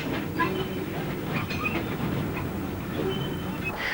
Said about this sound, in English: At Robertsbridge, a Bullard Q1 passes the Little Terrier.